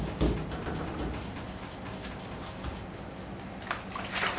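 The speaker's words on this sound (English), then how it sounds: "we can now wash it off with the warm water, a little bit of detergent, and the next clean, fresh blue cloth" Warm water with a little detergent is wiped and rinsed over a stainless steel surface with a fresh blue cloth, a soft continuous wet splashing and dribbling with a few brief louder sloshes, no talking.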